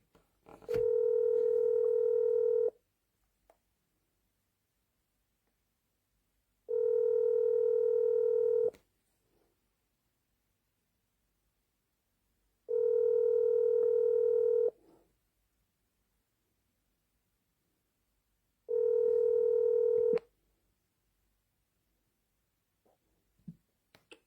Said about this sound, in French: Son téléphone sonne déjà